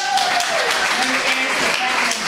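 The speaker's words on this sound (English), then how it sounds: "he does deserve a round of applause" A crowd at a community gathering in Limerick claps in a steady dense patter, with voices and a few whistles or calls mixed in over the applause.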